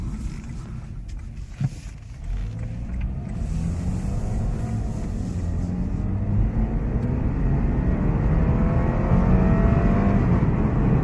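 A Lexus IS 200t F Sport turbocharged car under way from the driver's seat, with steady engine and road drone and a faint rising turbo whistle that grows slightly louder near the end.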